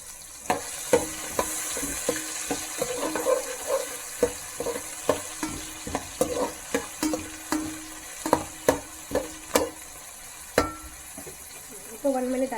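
Carrots sizzling in hot oil for a vegetable pulao, with a steady frying hiss under repeated sharp scrapes and clacks of a spatula stirring the pan, close and fairly loud.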